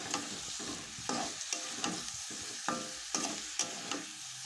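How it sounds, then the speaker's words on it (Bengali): Drumsticks and boiled potato sizzle in spices in a pan while being stirred, with steady frying hiss broken by repeated scraping strokes of a spatula, close and clear. "এখন দিয়ে দিচ্ছি সজনের ডাঁটি আর আলু সিদ্ধ করে, এটাকেও ভালো মতন এখন কষে নিচ্ছি।"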